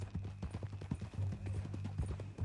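Horse hooves clip-clop steadily on the ground in the Western video game Red Dead Redemption 2, a close, even rhythm of hoof falls that repeats through the whole stretch with no talk over it.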